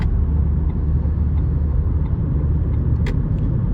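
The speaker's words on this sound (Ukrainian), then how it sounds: "он їдемо з 80 2000 обертів" An Opel Astra H 1.8 with an automatic transmission cruises at 80 km/h and 2000 rpm, heard from inside as a steady low engine and road rumble with no talking.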